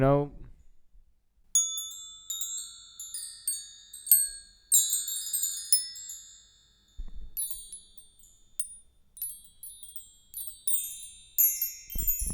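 Bright metallic hand-percussion chimes ring in scattered clusters, tinkling and overlapping with lingering tones, fairly close and fairly loud.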